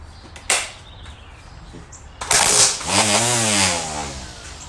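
A Ryobi 18-volt cordless 10-inch string trimmer starts with a couple of sharp clicks, then revs up into a loud, close, rising whine that holds steady and eases off slightly near the end.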